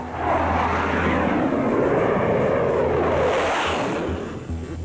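A Thunderbirds solo jet aircraft roars past in a continuous loud sweep, the engine noise rising and shifting in pitch as it passes close, then fading slightly at the end.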